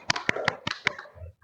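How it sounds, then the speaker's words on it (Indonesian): A few students clapping for a classmate in a school group counseling session, a short, sparse burst of about six distinct, separate claps that fades out quickly. "Mari kita berikan tepuk tangan untuk Afia."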